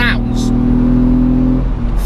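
A Mitsubishi FTO's engine revs hard, a loud, close, sustained mechanical drone with strong steady harmonics, heard under a voice talking.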